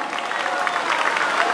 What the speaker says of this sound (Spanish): Ella es Milfa Borja Rivera, para quien pido un fuerte aplauso.